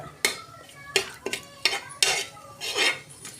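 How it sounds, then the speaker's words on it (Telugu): Tomato rice is stirred in a cooking pot, the spoon clinking and scraping against the metal in several sharp knocks over a faint simmer. No voices are heard. "లైట్గా కలుపుకుంటూ ఉండాలి"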